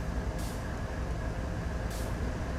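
Air brake on a BNSF diesel locomotive in Train Sim World 3, its independent brake fully applied: two short hissing bursts of air over a steady low engine rumble, with no talking.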